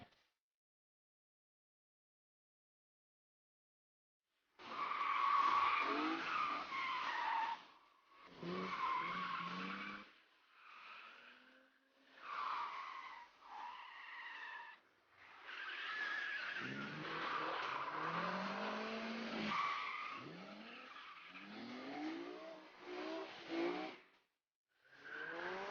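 Two drifting cars in a battle on a race circuit produce long, loud tire squeals and skidding screeches with engines revving, rising in several sustained bursts after a silent start.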